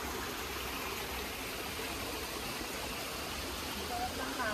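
Natural water flowing in a stream at a botanic garden in Melbourne, a continuous broadband rush steady throughout, moderately loud with no break.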